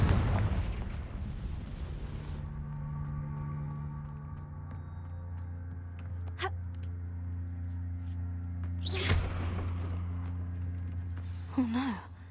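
A Confringo fire spell explosion in Hogwarts Legacy, with a low rumbling blast and sustained game hum, then two sharp bursts and a final crackle, no talk.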